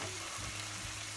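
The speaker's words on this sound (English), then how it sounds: "we're just going to let this simmer for about 3 minutes" A pan sauce made with sour cream simmers and sizzles, a soft continuous bubbling hiss with a low hum beneath, heard alone for just over a second.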